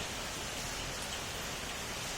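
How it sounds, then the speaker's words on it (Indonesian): Heavy rain falls steadily outside a mosque on a university campus in Yogyakarta, a dense, even hiss of water on surfaces, close and continuous with no voices. "Di luar masjid ini hujan."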